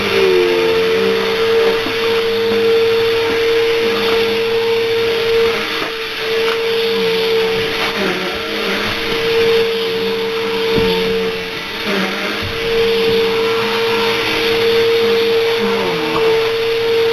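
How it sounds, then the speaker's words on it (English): A vacuum cleaner runs steadily throughout with a constant high whine and rough motor drone, close by, its pitch dipping slightly now and then. "I'm calling this an all-terrain vacuum."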